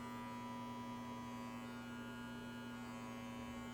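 A Brio Beardscape Pro electric beard trimmer runs with a steady, quiet mains-like hum and a strong buzzing tone, continuous and even throughout with no talking.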